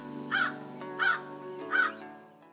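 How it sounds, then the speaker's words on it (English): Crows fly over fields near an English Heritage stone monument, giving three evenly spaced loud caws about a second apart, clear above a faint background. "Did you notice the crows flying over?"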